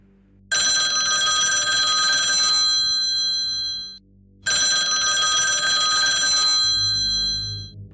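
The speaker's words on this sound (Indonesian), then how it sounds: "Tapi anehnya, telepon itu berbunyi lagi." An old-style telephone bell rings loud and close in two long metallic bursts of about two and a half seconds each, separated by a short silence, on a late-night customer service shift.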